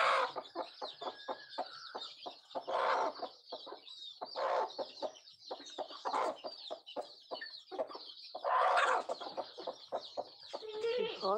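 Nearby chickens cluck busily in a quick, irregular series of short calls, with a few louder drawn-out squawks standing out among them, close and clear throughout.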